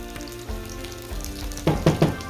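Garlic and onion frying in a pan of heated olive oil and butter, a close sizzle with a few louder crackling bursts near the end and no voices.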